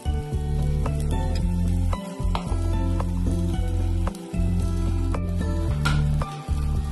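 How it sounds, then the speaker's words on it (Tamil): Chicken pieces and ginger frying in an oil-filled pan, a steady loud sizzle with occasional stirring scrapes and clinks, no voices. "ஜிஞ்சர் போட்ட உடனே இந்த சிக்கனை போடணும்"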